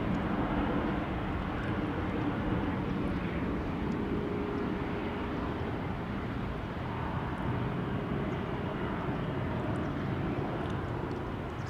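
A Brussels Airlines jet in the old livery with IAE engines burbles steadily at Heathrow, a continuous broadband rumble holding at an even, moderate level throughout with no voices.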